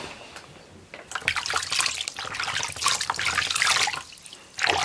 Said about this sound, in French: Et vous rincez.